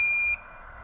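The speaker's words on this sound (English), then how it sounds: "it's beeping and it's draining the battery down to 12" A 2000W Aeliussine pure sine wave inverter, running on a draining battery, sounds a loud, piercing high-pitched electronic alarm beep that ends sharply after a fraction of a second, leaving a faint hum.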